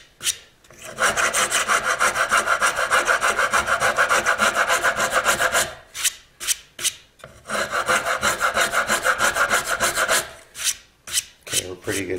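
A wood rasp scrapes in long, fast rhythmic strokes while shaping an electric guitar headstock, then slows into a series of separate, shorter rasping passes, close and loud.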